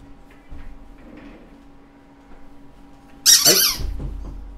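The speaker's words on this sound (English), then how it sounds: "I'm gonna get that squeaky toy." A squeaky toy lets out one loud, sharp squeak near the end, after a stretch of quiet room noise with a faint low thump, close to the listener.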